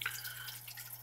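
Water flowing and dripping through a pond filter with a UV light in an indoor vertical aquaponics setup, a steady soft trickle with a low hum underneath, close and quiet.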